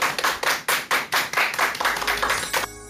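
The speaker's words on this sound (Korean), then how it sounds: "큰 박수 부탁드립니다" Audience applause for the lecturer Dr. Jo Yong-jin at a talk show lecture, a short burst of rhythmic, fairly close hand clapping that tapers off at the end.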